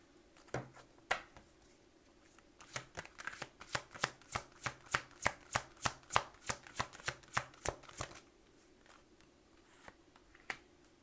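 Tarot cards riffled and snapped in a quick, steady run of about twenty crisp flicks, close and clear, with a few isolated card taps before and after in an otherwise quiet room.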